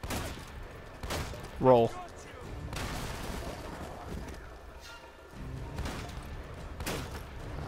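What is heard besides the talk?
enemy gunfire in video game Uncharted: Drake's Fortune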